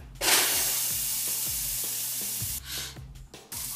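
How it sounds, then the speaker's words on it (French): A ground beef patty, unseasoned, drops into a hot frying pan and sizzles loudly and steadily, the hiss swelling at first and continuing with small pops and fluctuations, with no talking. "On fait une boulette, puis on drop ça dans le poêle."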